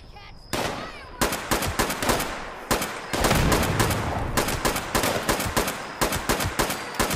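Minigun fire in the video game Fallout 76, long dense bursts of rapid automatic shots, loud and close, broken by short pauses and continuing to the end.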